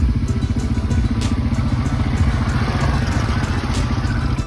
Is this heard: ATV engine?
yes